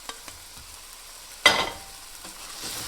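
Chopped Roma tomatoes and minced garlic sauté in a pan for an almond sauce, a soft steady sizzle broken by one sharp scraping stir midway, close and quiet, with no voices.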